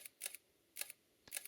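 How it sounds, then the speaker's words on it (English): Olympus OM-D E-M10 Mark IV mirrorless camera in continuous shooting: quick bursts of soft shutter clicks in three faint, close clusters separated by brief pauses in a quiet room. "the camera will continue to take pictures as long as the shutter button is held down"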